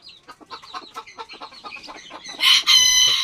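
Newly hatched chicks cheep in a quick, uneven series, followed by a louder burst of crowing from a nearby rooster.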